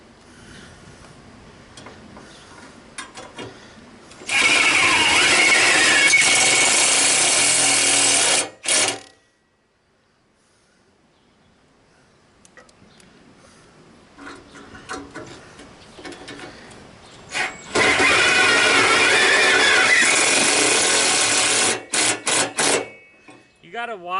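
An impact driver drives screws into a Craftsman GT lawn tractor hood in two loud, steady bursts of about four to five seconds each, separated by a quiet pause, with scattered handling clicks and low voices around them.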